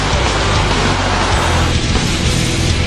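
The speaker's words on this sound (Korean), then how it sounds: "자동차도 등속으로 가고 있습니다" A car travels past at steady speed, producing loud, unbroken road and engine noise that fills the whole stretch without clear breaks or changes.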